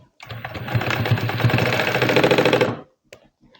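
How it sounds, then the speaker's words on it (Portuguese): A sewing machine runs in one continuous burst of stitching for about two and a half seconds, sewing a ribbon onto a folded piece of fabric for a bag-sized placemat. It has a steady, close mechanical chatter and then stops. "Vou colocar a fitinha aqui e vou passar uma costurinha só para prender ela."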